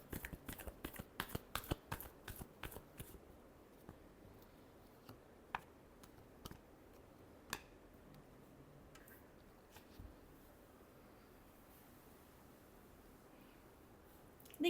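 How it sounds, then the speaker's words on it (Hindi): Tarot cards are shuffled with quick riffling snaps in a dense burst at first, then slow to scattered single clicks, close and soft against a quiet room. "Last shuffle."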